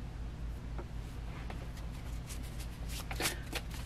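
Tarot cards being shuffled by hand, a run of quick papery riffles and flicks that grows busier toward the end, fairly close over a steady low background hum.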